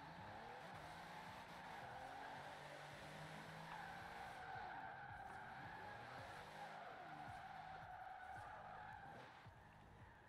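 A tuned car drifts in Forza Horizon 4 on Xbox, tires squealing in long sustained howls over a rumbling engine whose pitch swoops up and down; steady and moderately distant, with no speech.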